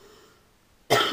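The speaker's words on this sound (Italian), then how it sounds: "mi è preso un attacco di tosse" A woman coughs in a sudden close, loud burst after near-silence, harsh throat-clearing coughs rising sharply at the end of a quiet moment.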